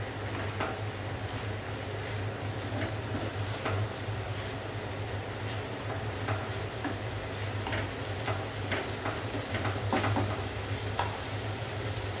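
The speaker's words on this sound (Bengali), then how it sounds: "এবার মশলাগুলো আমি মিশিয়ে নিচ্ছি।" Spices being stirred in a frying pan for chicken keema pulao, a steady low sizzle with scattered scraping and tapping of the spoon against the pan over a low background hum.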